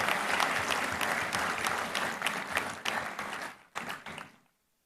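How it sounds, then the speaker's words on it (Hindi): Enthusiastic audience applause welcoming a guest at an AIIMS Jodhpur event with Chief Minister Bhajanlal Sharma, dense clapping sustained for about four seconds before tapering off into silence. "एक बार जोरदार तालियों के साथ उनका स्वागत और अभिनंदन।"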